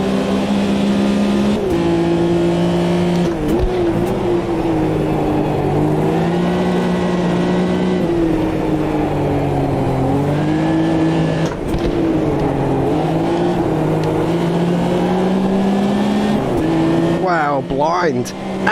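Porsche Group C race cars battling at Silverstone in Automobilista 2, with a loud, continuous engine drone that rises and falls in pitch and a voice talking over it.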